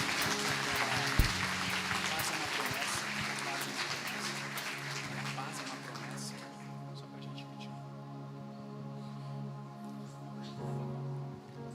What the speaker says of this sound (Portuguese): Você pode dar uma salva de palmas para Ele?